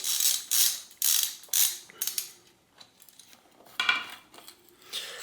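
A socket wrench ratchets in quick bursts loosening the crankset spindle bolt on a DIY cyclocross/gravel bike, sharp close clicking strokes repeated about once a second, then softer metallic handling sounds.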